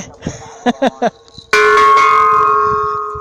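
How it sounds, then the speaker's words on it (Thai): A large bell at the temple of Wat Phra Phutthabat Phu Manorom in Mukdahan is struck once with full force, giving a loud metallic clang that rings on in a long shimmering decay after a few short muffled knocks. "ที่นี่ตีได้ดังที่สุดเลยระฆังตีดังได้"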